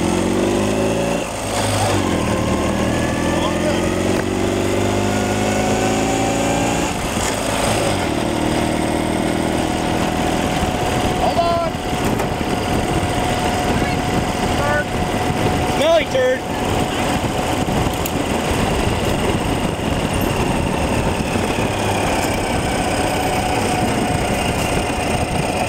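Ural motorcycle with sidecar running steadily, a continuous engine rumble heard close by throughout while people talk over it.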